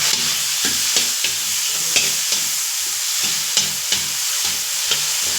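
Tomato and onion sautéing in a pan, a steady bright sizzle with a regular rhythm of stirring scrapes and taps against the pan, close and alone without any talk.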